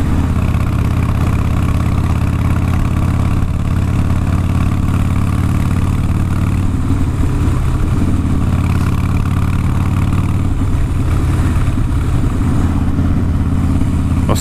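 A Harley-Davidson motorcycle engine runs loud and steady while riding, a deep continuous rumble with low throbbing that swells slightly at times, with no voices over it.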